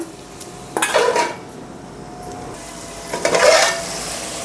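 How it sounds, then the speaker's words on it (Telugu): Tomatoes stirred in a cooking pan for a liver curry, two distinct bursts of a metal spoon scraping and clinking against the pan, close and fairly loud, with quiet between them and no speech. "ఇప్పుడు తీసుకొని కొంచెం కలుపుకుంటే అడుగంటుకోదు"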